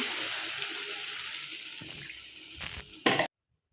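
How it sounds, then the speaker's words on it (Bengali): Water streams steadily into a cooking pot holding fried potatoes and chicken skin, a close hissing pour that thins out, followed by a few brief clanks before it stops abruptly. "এখন চামড়াটা দিয়ে দিলাম, আবারও একটু জল দিয়ে দিলাম"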